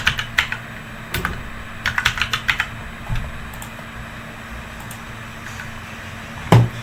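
Keys clatter on a computer keyboard in short bursts and single taps while a Python list is typed out, fairly close, over a low steady hum, with one louder thump near the end.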